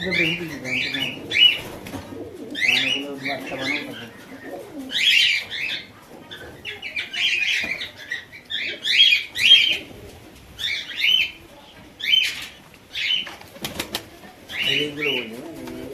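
Fantail pigeons at a seller's coo and chirp in a busy, repeated stream of calls, with occasional bursts that may be wing flaps, close and fairly loud throughout.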